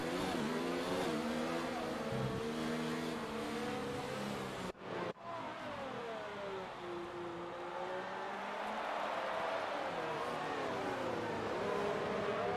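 Formula 1 cars racing in F1 2019 at Barcelona, a loud, close engine whine rising and falling through gear changes and corners, with a brief dropout midway and a rival car nearby.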